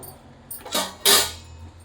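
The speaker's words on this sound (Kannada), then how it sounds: "ಈಗ ಲಿಡ್ ಕ್ಲೋಸ್ ಮಾಡಿ ಇಡ್ತಾ ಇದ್ದೀನಿ" A pot lid closes over chicken cooking for green chilli chicken and chicken sukka, giving two short metallic clanks a moment apart, the second louder, with no talking.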